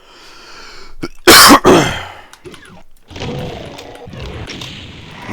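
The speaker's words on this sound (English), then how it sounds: "Again, I apologize for the coughing and stuff." A man coughs and clears his throat loudly and close, a sharp burst of a couple of harsh coughs followed by quieter throaty rasps and breathing.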